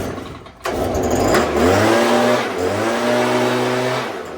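A Stihl chainsaw's two-stroke engine revs up sharply and holds a high, steady whine, with a slight dip partway through before settling back to a buzzing high idle after carburetor adjustment.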